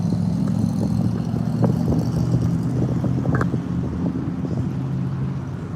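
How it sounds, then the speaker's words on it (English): A yellow car's engine hums and rumbles steadily nearby as it drives by, with a low droning tone and some wind buffeting, fading slightly toward the end. "I hear the engine sounds over there right when this car drives."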